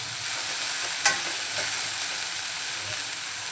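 Dry prawns being stirred in a frying pan, a steady soft sizzle with one sharp scrape or clatter of the spoon early on, then continuous frying hiss with no talking.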